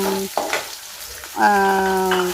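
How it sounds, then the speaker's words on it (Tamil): Onions, mustard seeds and fenugreek fry in hot oil with a steady, close sizzling hiss that runs throughout and swells partway through, while a tonal hum sounds over parts of it. "அதில் கொஞ்சம் வெங்காயத்தையும் போட்டு நல்லா எண்ணெயிலே வதக்கணும்"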